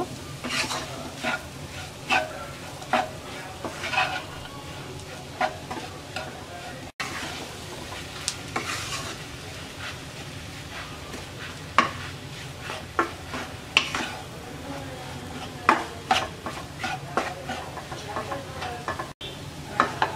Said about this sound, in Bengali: আলু মশলার সাথে ভালো করে মিশিয়ে 2 থেকে 3 মিনিটের মতো রান্না করব।